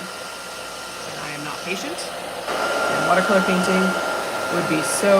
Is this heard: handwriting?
no